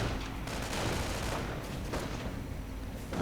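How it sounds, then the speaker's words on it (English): Dense gunfire and explosions from a WWII real-time strategy battle game run as a continuous loud barrage, with bursts of shots layered over each other and no talk. "Bazooka rockets flying, missing."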